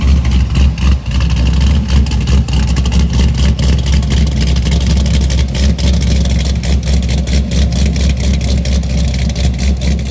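An LS V8 engine in a police car idles with a lopey, choppy rhythm from a performance cam on a 113 LSA, steady and close, with no talking.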